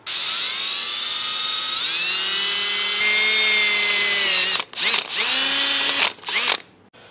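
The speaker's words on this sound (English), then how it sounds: "go ahead and drill that baby" Power drill boring a hole in metal for a custom hood prop on an old car, a loud whining drill that rises in pitch as it spins up, runs steadily, then stops and restarts in short bursts.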